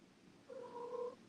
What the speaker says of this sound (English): These little kittens.